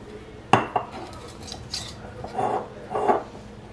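A metal canning lid is set onto a jar in a home kitchen near a gas burner, giving a sharp metallic clink followed by several lighter scraping taps and clatters, close up and fairly quiet, with no talking.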